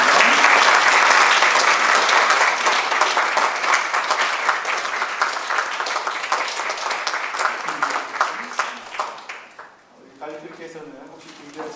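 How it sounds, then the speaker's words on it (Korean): A congregation applauds during a church anniversary ordination ceremony on Long Island, a loud sustained burst of many hands clapping that gradually thins and fades, followed by a voice speaking briefly at the end. "박수로 격려해 주시기 부탁드리겠습니다."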